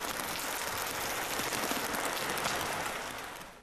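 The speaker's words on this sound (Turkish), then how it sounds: "Askeri şubesine ellerinde Türk bayraklarıyla giden gazileri vatandaşlar alkışladı." Citizens applaud veterans carrying Turkish flags outside a military recruitment office, a steady, dense wash of clapping that holds evenly throughout and fades slightly at the end.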